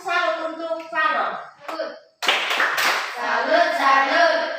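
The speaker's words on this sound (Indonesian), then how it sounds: "Kita berikan tepuk salut untuk Faro." Children in a classroom clap together in a rhythmic pattern, brisk close-up hand claps mixed with their chanted voices and a teacher's talk.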